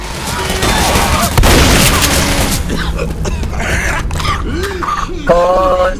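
A Molotov cocktail bursts into flame in Left 4 Dead, a sharp whoosh and thud early on, followed by game noise and players talking and reacting.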